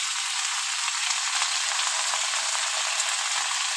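Whole red amaranth leaves fry in a pan, giving a steady, even, close hiss of oil that carries on without a break, with no talking.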